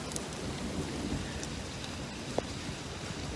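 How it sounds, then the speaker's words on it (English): Heavy rain pours down in a steady, dense hiss outdoors over a garden, with a faint rumble underneath and one brief sharp knock midway. "here comes the downpour again"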